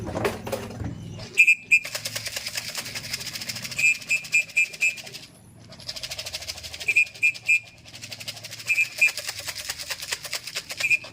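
A flock of birds arrives at once, with a burst of wing flapping at the start, then bouts of fluttering and clattering broken by short runs of repeated high beeping tones and a brief pause midway.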